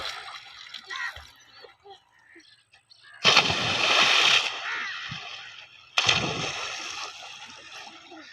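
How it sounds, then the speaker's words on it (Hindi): Two loud, close bursts of splashing water as children play in a swimming pool, each lasting about a second, with quieter background chatter in between. "ईद वाले दिन बच्चे एंजॉय कर रहे हैं स्विमिंग पूल में"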